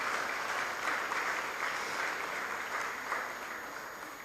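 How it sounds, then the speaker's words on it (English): Applause at a school speech day and prize-giving ceremony, a steady wash of many hands clapping from a sizeable audience, holding even and then gradually fading. "giving them a round of applause for this achievement"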